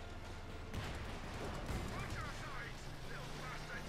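A grenade blast clears a machine gun in Company of Heroes 2, a World War II strategy battle, with one booming crack among steady battlefield rumble and distant fire while a commentator talks over it.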